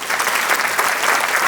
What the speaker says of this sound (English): Round of applause to the panelists